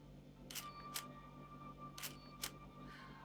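Four crisp shutter clicks from an older DSLR camera set to a 1-second shutter speed, in two pairs, each a quick double snap, faint and close with quiet background hum.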